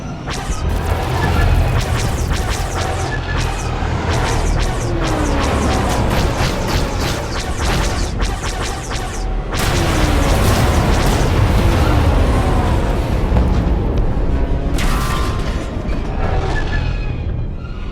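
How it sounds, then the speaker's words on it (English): Loud, continuous barrage of bombing explosions in Star Wars: The Old Republic as bombers attack a camp, with dense rumbling booms and crashes layered over one another, swelling again midway through. "Bombers, they're attacking the camp."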